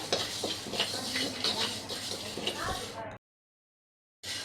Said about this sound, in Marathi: मी आता मेथी भाजून घेते